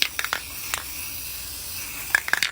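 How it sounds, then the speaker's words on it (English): A spray paint can sprays brilliant blue onto a freeform art piece in short hissing bursts, with a few sharp clicks and spurts at the start and end around a steady faint hiss. "Spray brilliant blue like this."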